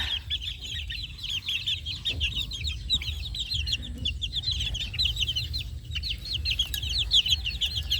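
Young chicks of gamefowl chicks, under a month old, cluck and peep continuously in a steady, busy chorus of overlapping high chirps, close by with a low rumbling background throughout.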